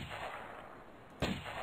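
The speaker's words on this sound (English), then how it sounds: "The guy is not fazed by all the gunshots." Sniper rifle gunshot in the Sniper Assassin video game, one sharp loud crack that cuts through low background ambience near the end.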